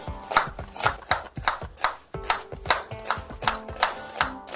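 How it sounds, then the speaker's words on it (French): A knife chops an onion roughly on a board in quick, evenly spaced strikes, about a dozen crisp close thuds in a row, with no voices. "je vais commencer à émincer l'oignon un petit peu grossièrement"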